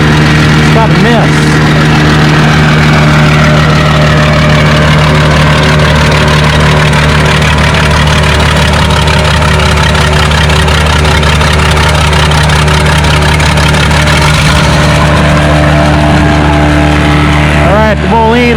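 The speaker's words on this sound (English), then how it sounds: "we got a Minneapolis Moline G705 with a transplant, 800 cubic inch Minneapolis Moline power. It does not sound good." A Minneapolis Moline G705 pulling tractor with a transplanted 800 cubic inch Minneapolis Moline engine runs loud and steady for the whole stretch, its heavy drone carrying a rough miss, with crowd noise and talk mixed in at a tractor pull on wet clay.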